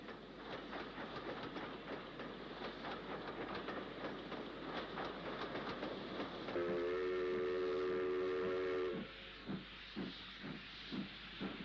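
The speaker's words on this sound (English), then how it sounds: "Saturday holiday trains from the north to the west of England could be seen arriving behind steam." Steam locomotive 70045 Lord Rowallan arrives at Bristol Temple Meads with a Saturday holiday train, hissing steam and rumbling wagons building up, a sustained whistle sounding midway, then rhythmic chuffs and clanks as it rolls in.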